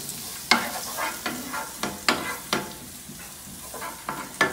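Pine nuts frying in ghee are stirred in a pan, with a steady soft sizzle under a series of sharp scraping strokes of the spoon at irregular intervals, close and fairly quiet, with no talking.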